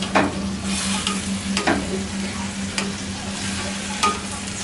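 Chicken pieces for chicken marsala sizzle and fry steadily in a pan, close up, with occasional clinks and scrapes of a utensil stirring or turning them.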